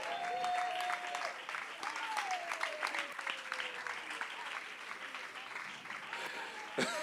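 A church congregation claps steadily throughout, a dense, continuous applause from a room full of worshippers, with faint talk and a sustained tone running underneath.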